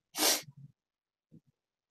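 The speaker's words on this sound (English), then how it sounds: "Sorry, it's a sneeze, folks." A single loud, close sneeze bursts out as a sharp broadband blast, followed by a few faint breathy sniffs and small throat sounds, then quiet.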